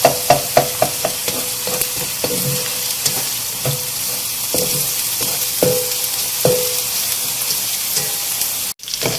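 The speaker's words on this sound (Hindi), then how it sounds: "हमें प्याज को यहाँ इतना फ्राई करना है कि इसका कच्चापन बिल्कुल ख़त्म हो जाए।" Onions fry in a karahi, a constant sizzle punctuated by a dozen or so sharp clicks and scrapes from stirring, closing with one louder knock.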